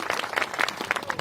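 Audience at a Worla church convention clapping in a quick, loose burst of hands for just over a second, fairly close, with faint crowd murmur.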